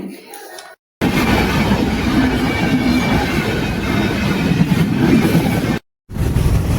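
A train rumbles past up close at a level crossing in Kollam, loud and continuous with rhythmic wheel clatter, framed by brief cuts of silence at start and end.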